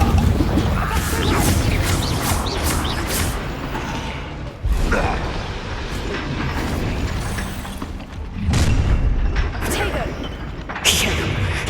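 Confringo blasting spells explode in Hogwarts Legacy, loud booming blasts repeating at irregular intervals with sharp transient bursts, mixed with game sounds and busy combat.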